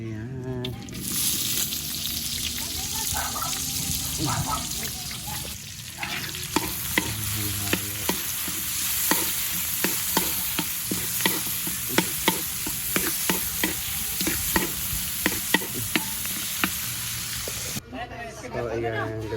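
Pancit noodles are stir-fried in a pan, with a continuous sizzle and repeated sharp scrapes and clicks of the utensil against the pan. People talk now and then over the cooking.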